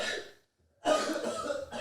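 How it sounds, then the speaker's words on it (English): A short cough fades out, then after a brief pause a louder burst of harsh coughing or throat clearing follows, close to the listener. "Man, he's still coughing."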